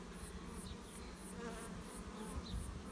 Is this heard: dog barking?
no